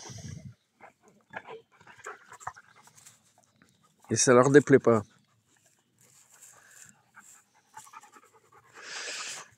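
Dogs panting on a farm in short, breathy bursts at the start and end, with someone speaking French between them.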